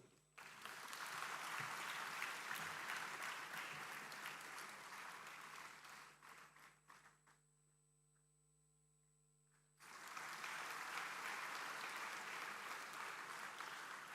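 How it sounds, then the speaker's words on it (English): An audience at a degree convocation ceremony claps in a dense, steady burst, fades out for a few seconds of near quiet, then bursts into applause again, heard from across a large hall. "keep the applause going"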